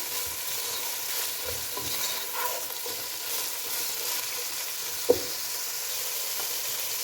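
A cup of cabbage is stirred into a frying pasta and spaghetti mixture in a pan: a continuous soft sizzle with shuffling stirring sounds and one sharp clack of the utensil.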